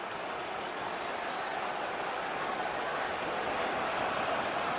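West Ham football crowd at a Premier League home match against Newcastle United applauding a big tackle, a steady wash of clapping and crowd noise from a large stadium audience, sustained and fairly loud throughout.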